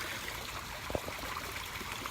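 Water sprays and trickles steadily from a motion-activated scarecrow sprinkler at a koi pond, a faint continuous hiss with a brief splash in the middle.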